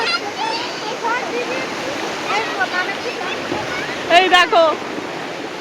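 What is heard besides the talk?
sea waves on a beach in the rain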